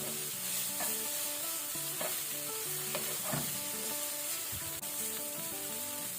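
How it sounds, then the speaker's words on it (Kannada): Ginger-garlic paste fries over a medium flame for a butter mushroom masala. A continuous soft sizzle plays with occasional stirring scrapes, and steady background music runs under it. "ಶುಂಠಿ ಬೆಳ್ಳುಳ್ಳಿ ಪೇಸ್ಟ್ ಒಳ್ಳೆ ರೀತಿ ಫ್ರೈ ಆಗಿದೆ"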